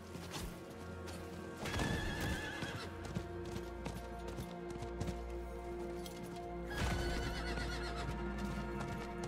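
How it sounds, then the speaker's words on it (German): In Diablo IV, a horse gallops with steady clip-clop hoofbeats and lets out two loud whinnies, backed by continuous game music and ambience. "Aber wir haben ja unser Pferdchen, damit sind wir richtig schnell."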